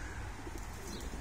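Soft cooing of pigeons in a loft, faint and low, with a few light chirps over a muffled background.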